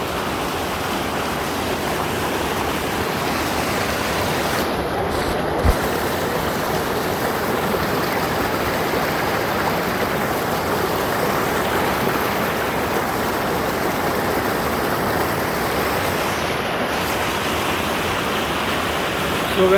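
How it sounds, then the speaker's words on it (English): A monsoon-season waterfall and flowing river in the mountains of Nepal, a steady dense roar of rushing water, loud and unbroken throughout. "waterfall you can only see in monsoon season because it's raining"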